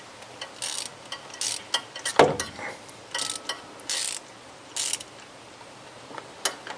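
A ratchet wrench turned counterclockwise to loosen a spark plug in an IROC engine, giving close, crisp bursts of rapid clicking in short repeated strokes with brief pauses between them.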